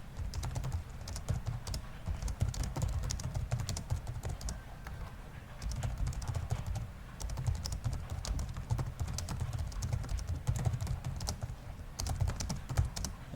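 Continuous rapid typing on a computer keyboard, dense clicking keystrokes close by with only short pauses, no voices heard.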